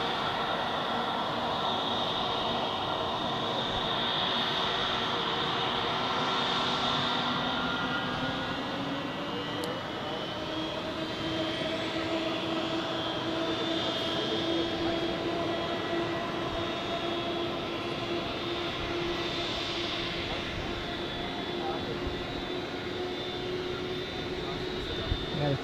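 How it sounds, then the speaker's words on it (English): Airbus A330 airliner engines at Zurich airport, a steady loud jet roar and whine that rises slightly and holds throughout, heard from an observation deck with people talking over it. "Another A330 in the background right now."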